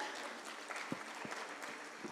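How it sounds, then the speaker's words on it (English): A conference audience claps for the inaugural panel at the ASSOCHAM corporate bond market conclave, a soft, distant, steady patter of applause in a large hall. "Can we have a huge round of applause for all of them?"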